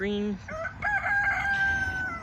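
Backyard chickens kept under a hawk net, a rooster crowing one long drawn-out call after a brief cluck, loud and close.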